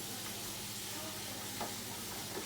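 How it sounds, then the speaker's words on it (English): Onions stirred in a pot for pumpkin and butternut squash soup make a soft, continuous sizzle and scraping, fairly quiet and steady, with no talking. "he's stirring the onions"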